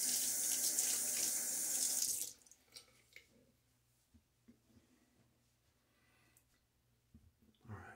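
Water gushes from a bathroom tap for about two seconds for wetting the face before a shave, then cuts off, leaving quiet dripping, splashing and faint handling sounds close by.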